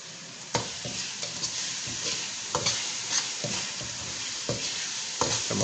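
Masala with half a tablespoon of ground cumin being fried and stirred for a potato and pea curry, a steady close sizzle broken by repeated scraping strokes of a spoon against the pan, no voices.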